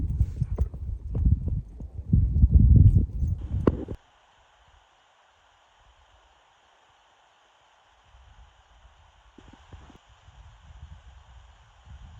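Rhythmic horse hoofbeats clip-clop steadily on a backcountry trail for a few seconds, then stop, leaving a faint hum and light rustling.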